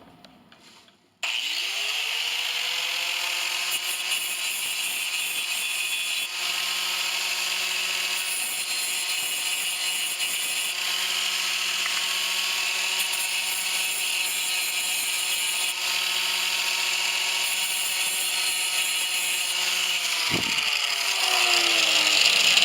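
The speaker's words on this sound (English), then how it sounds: "it did leave a little bit of a burr around the edges, so I'm just going to grind that off" A grinder runs steadily for about twenty seconds, grinding burrs off drilled holes in truck body metal. It starts abruptly after a moment of near silence and keeps a loud whine with a faint, slightly wavering pitch.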